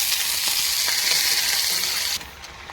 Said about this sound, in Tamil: இப்போது வெங்காயம் நல்லா வதங்கிருச்சு